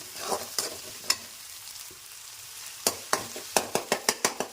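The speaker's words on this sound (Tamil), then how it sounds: "தக்காளி நல்லா கூழாக வதங்கட்டும்." Tomatoes sautéing with ginger and garlic for a pepper crab fry: a soft sizzle under irregular spatula clicks and scrapes, which quicken into a rapid run of strokes at the end.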